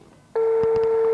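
A telephone line tone starts abruptly after a short quiet moment, a loud steady electronic beep that holds on without a break, with faint clicks over it.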